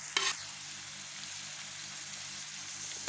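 Chopped spring onion fries in a pan at home, with a steady, close hiss of oil running throughout and a brief sharper crackle near the start.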